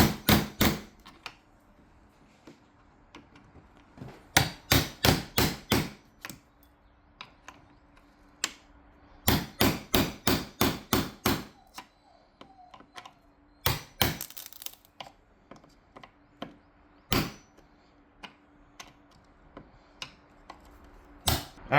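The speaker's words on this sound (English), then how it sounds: "we're going to go ahead and take our chisel and get it out of there" A chisel clears leftover material during armor plate installation, giving sharp, bright taps and cracks in quick bursts of several strikes separated by short quiet gaps, fairly soft overall.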